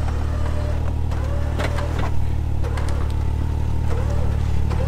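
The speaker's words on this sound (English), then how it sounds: "Put it in reverse and just give it a tiny bit of gas." A car stuck in a deep hole, its engine droning low and steady while given light gas in reverse, with faint clunks and knocks over the continuous hum.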